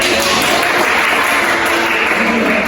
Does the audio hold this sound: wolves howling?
no